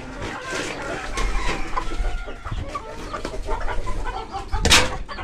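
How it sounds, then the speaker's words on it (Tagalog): Hungry backyard chickens cluck and call insistently at close range, with a few louder squawks and one sharp burst near the end, amid faint background noise. "Naiinip na natin mga manok."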